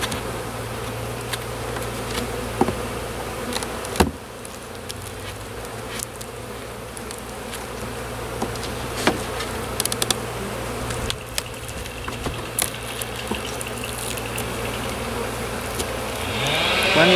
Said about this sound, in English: Plenty of bees up there in that third box.